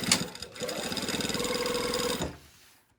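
A sewing machine stitches a collar band to a collar in one close, steady burst of rapid needle strokes lasting under two seconds, then the motor winds down to quiet.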